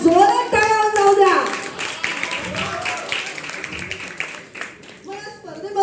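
Audience clapping at a Rotary Club of Dombivli Charter Day celebration, a burst of applause that starts loud near the start with voices and music overlapping, then continues less clearly under ongoing sound.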